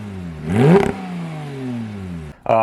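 A manual Porsche 991.2 GT3 with its exhaust valve open gives one loud, close rev that climbs sharply, then settles into a falling engine drone, with a short blip just before the end.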